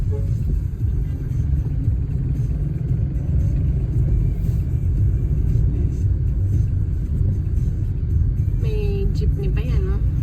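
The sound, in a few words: jeepney on the road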